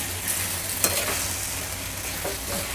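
Smashed potato vegetable stir-fried in a pan gives a steady broadband sizzle, with a sharp utensil scrape near one second and softer stirring scrapes near the end.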